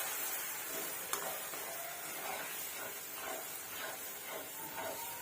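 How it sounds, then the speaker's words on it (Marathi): Masala seasoned with turmeric and salt sizzles while being sautéed in oil for a dill leaf curry, a soft, steady frying hiss with a single sharp click and faint scraping. "आता मसाला एकसंध परतून घ्यायचा आहे"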